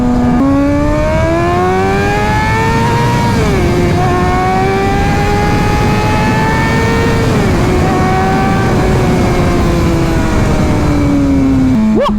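A Suzuki GSX-R 600 sport motorcycle's engine drones loudly while riding, a strong steady tone that climbs through the revs, dips at gear changes, then rises again, heard close and alone over road and wind noise.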